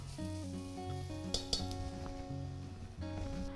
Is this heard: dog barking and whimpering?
no